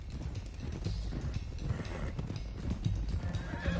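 Horses in Red Dead Redemption 2 gallop with steady, close clip-clop hoofbeats and a whinnying neigh, all loud and continuous over a short stretch.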